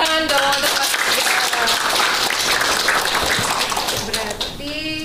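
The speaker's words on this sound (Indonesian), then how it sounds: "Tepuk tangan dong untuk kelas PEGA." A full class of 36 students applauds in a classroom: dense, steady clapping from many hands, loud and close, tapering slightly toward the end, with a teacher's voice briefly speaking at the start and finish.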